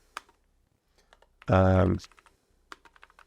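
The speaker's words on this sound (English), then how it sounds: "you can navigate with your keyboard" Computer keyboard typing for a distraction-free writing tool: scattered soft key clicks, with a single spoken word cutting in at the middle, then more light, irregular taps.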